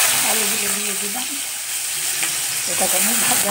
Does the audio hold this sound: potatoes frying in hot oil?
yes